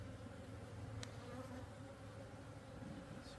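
Honeybees buzzing at an open backyard apiary hive during a spring frame check, a steady dense drone close to the ear with no pauses throughout.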